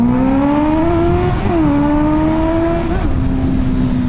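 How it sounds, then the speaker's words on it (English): A car with a loud aftermarket exhaust is revved in an echoing spot, giving a sustained droning engine note that rises in two short blips before settling back, close and loud with no talk. "So you can hear every time I rev up."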